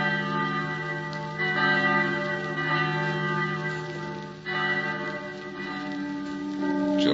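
Bells ring continuously as a radio drama sound effect, overlapping sustained tolls with a steady resonant hum and periodic fresh strikes renewing the peal.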